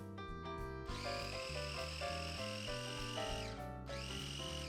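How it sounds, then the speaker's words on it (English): A blender whirring through a citrus and herb marinade with its lid on, a close steady motor whine whose pitch sags and rises as the blades work the mix, brief dips mid-run. "we're just gonna put our lid on our machine and give it a nice little blend"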